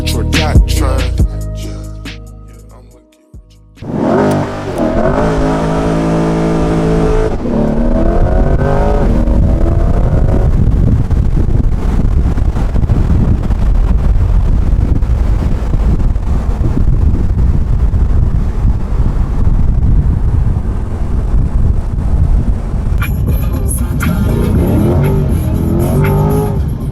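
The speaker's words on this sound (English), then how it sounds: "This is the car. It's a Chevy Corvette" A Chevrolet Corvette drives with its engine roaring loudly and steadily under heavy wind buffeting after a brief revving start, the sound sustained and close for the whole stretch.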